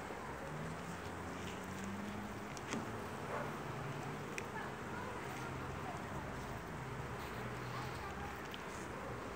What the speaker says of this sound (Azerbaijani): bu da arı pətəyindən çıxmağa çalışır.